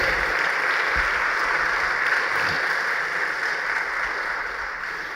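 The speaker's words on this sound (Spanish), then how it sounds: "denle ese aplauso al Señor" A large church congregation applauds steadily, a dense wash of clapping that stays loud throughout and eases slightly toward the end.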